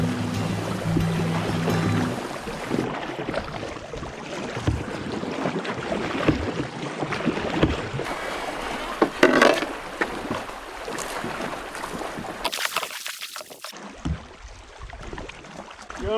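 A canoe paddling through a rocky river swift in the Northern Manitoba wilderness, with continuous rushing water and wind buffeting the microphone and occasional louder splashes and knocks of the paddle.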